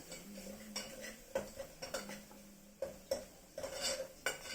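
A utensil scrapes and clinks against a pan at low heat while dal tadka is stirred, giving irregular close metallic knocks and scrapes at roughly half-second intervals, with only a faint sizzle beneath.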